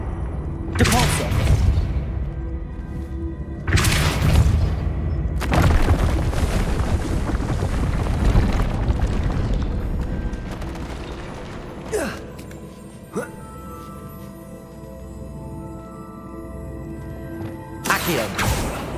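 A Depulso spell is cast in Hogwarts Legacy amid a run of spellcasting, with several loud whooshing bursts, rumbling and creaking mechanisms, and sharp clicks over continuous game ambience.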